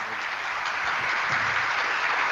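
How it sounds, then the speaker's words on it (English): Applause from a live show audience, a smooth, steady roar of clapping, fairly soft and continuous over the short stretch. "I don't deserve all that applause."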